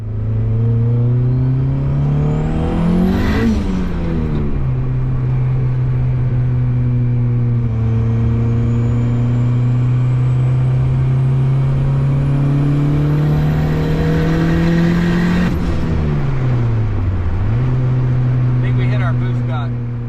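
A turbocharged Honda Civic pulls hard on a fixed boost duty cycle, its engine note climbing steadily and loud with a sharp rise and dip around gear changes, tyres spinning in second gear.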